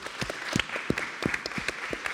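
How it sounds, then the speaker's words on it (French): Scattered, moderately quiet applause from a conference audience at the Paris Air Forum, with individual claps standing out in an uneven rhythm. "son président d'abord, Max Armanet, que vous pouvez applaudir."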